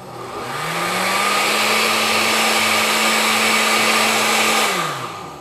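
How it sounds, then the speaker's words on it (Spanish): An electric blender purees ingredients for a four-cheese fettuccine sauce, its motor whine rising quickly, holding a steady loud drone for about four seconds, then winding down, with no talk. "Ya nada más ahora tenemos que licuar. Vamos a poner su tapa y la sentamos muy bien y listo. Vamos a licuar de 1 minutito a 2."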